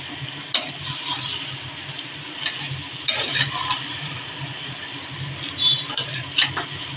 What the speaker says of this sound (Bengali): এখন আমি একটু নেড়ে নিচ্ছি